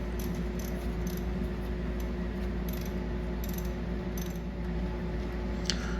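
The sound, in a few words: box wrench loosening bolts on ATV brake caliper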